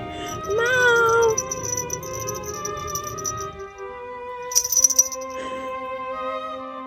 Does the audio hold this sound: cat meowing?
yes